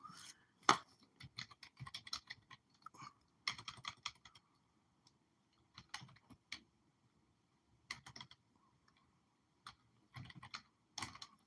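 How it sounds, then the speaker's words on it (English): Keys clatter on a computer keyboard in close, uneven bursts of rapid typing, separated by short pauses, with nobody speaking. "I'm typing the word borrow"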